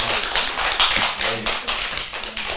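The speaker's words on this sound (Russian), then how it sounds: "Где аплодисменты?" Close, uneven hand claps from a small group rattle out in quick bursts on a cooking show set after a lasagna is finished, with no voices.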